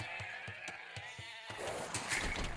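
Sheep bleat in an Age of Empires match, Cumans against Franks on the Arena map, with game-world ambience, short clicks and brief animal calls spread over a couple of seconds.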